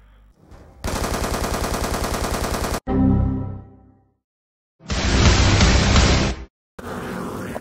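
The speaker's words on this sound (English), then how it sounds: "Gunfire! Get down!" Rapid bursts of automatic gunfire, a long rattling volley followed by a heavier roaring burst and another short one, loud and close.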